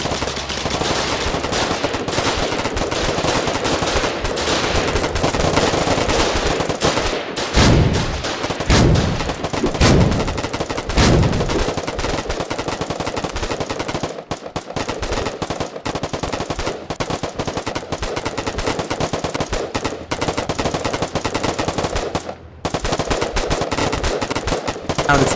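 Sustained automatic gunfire from several players shooting together at a target in the war video game Foxhole, loud and dense bursts rattling almost continuously, with heavier booming shots mixed in.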